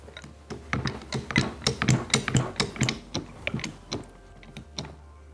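A ratchet wrench cranks a spring compressor tightening down the front suspension coil spring of a 12th-generation Toyota Corolla, giving a close, steady run of sharp clicking strokes in quick bursts with short pauses and no talk.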